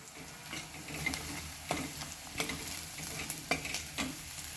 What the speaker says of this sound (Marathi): हे आपण 1 मिनिट परतून घेणार आहोत.